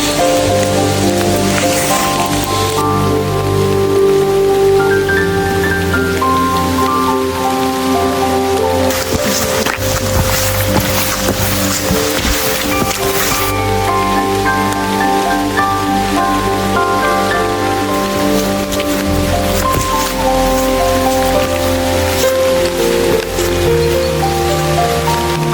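Steady rain patters on a mountain hiking trail, a dense, continuous hiss of drops with no voices, holding evenly throughout with tonal music-like layers running underneath.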